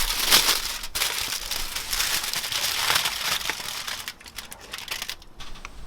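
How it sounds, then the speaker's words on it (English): Aluminium foil crinkles and crackles as it is pulled over rested barbecued steaks, a close, dense rustling that thins out and stops near the end. "There's some foil here to put over the top"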